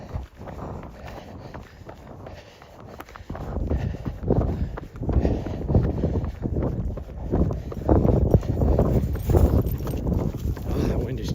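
Chilly wind gusts outdoors on a running trail in Montana, buffeting the microphone in loud, uneven rumbling bursts that swell and fade, alongside footsteps and occasional voices.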